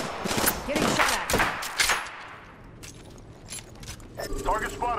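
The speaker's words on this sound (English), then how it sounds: "Getting shot at." Gunfire from a battle royale video game, a burst of sharp shots in the first two seconds, then quieter clatter and faint distant pops, with a voice talking near the end.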